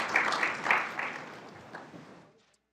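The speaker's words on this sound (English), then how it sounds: "Let's get one round of applause for everybody who's up here." Audience applause for award recipients gathered on stage at an academic exposition awards ceremony, a moderate wash of clapping that swells briefly and then fades out to silence within about two seconds.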